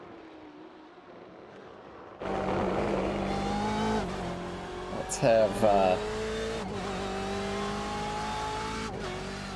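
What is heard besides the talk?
race car engine in iRacing video game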